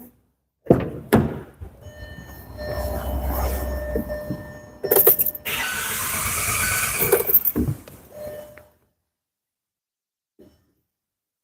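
A car engine cranks on its starter motor during a cylinder-fault diagnosis, a brief churning burst that stops, then a second short crank, loud and close with no talk.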